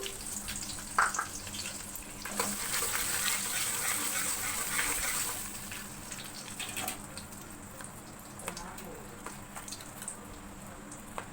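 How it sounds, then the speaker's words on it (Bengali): Whole cinnamon, cardamom and cloves drop into hot oil with a sharp crackle, then settle into a soft, steady sizzle that fades gently over several seconds; no one speaks. "এইবারে দিয়ে দিলাম দারচিনি, এলাচ, লবঙ্গ ফোড়ন দিয়ে দিলাম"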